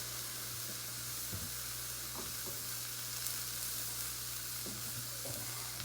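A steak sears in a hot pan with a quiet, steady sizzle and hiss, joined by a low constant hum and a few faint clinks or movements, with no one speaking.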